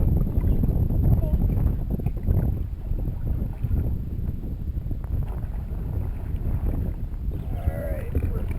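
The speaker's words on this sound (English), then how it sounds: "I'm trying to turn the canoe around a little bit" Canoe paddled across a windy lake at Rock Lake, with steady wind buffeting the microphone and water sloshing close by; faint voices and a brief squeaky sound near the end.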